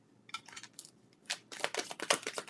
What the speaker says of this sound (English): I am shuffling, so give me a second.